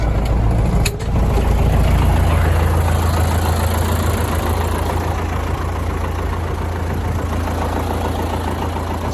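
A tractor engine runs at a steady heavy drone while weeding a sunflower field, loud and close, with a brief clunk near the start and wind noise over it.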